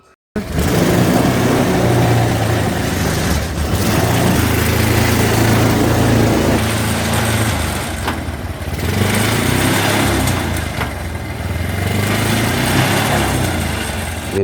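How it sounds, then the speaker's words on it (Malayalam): A bike engine fitted in a homemade custom jeep runs steadily and loudly, a rough, buzzing drone close by that holds nearly constant for the whole stretch. The engine is slightly worn and smoking. "എൻജിൻ അത്ര പെർഫെക്റ്റ് അല്ലാത്തത് കൊണ്ട് തന്നെ ചെറിയ പുകയൊക്കെ ഉണ്ട്."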